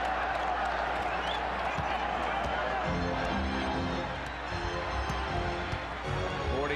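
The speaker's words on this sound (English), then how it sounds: "Crowd chanting during those free throws, let them play" Arena crowd noise at a 1995 NBA playoff game between the Pacers and Knicks, a broad steady roar with rhythmic chanting swelling beneath it during free throws, while a commentator talks over it.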